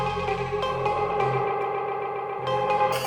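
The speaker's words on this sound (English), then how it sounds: "dub echo" Dub echo sound color effect on an AlphaTheta XDJ-AZ four-channel DJ controller, applied to a playing track: music carries repeating echo tails that build and decay across the mix, with steady loud level and no talking.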